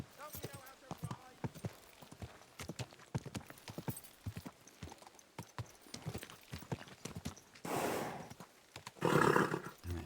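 Horse hooves in Kingdom Come: Deliverance 2, a steady clip-clop of a trotting mount over ground, then a couple of louder snorting, whinnying bursts near the end.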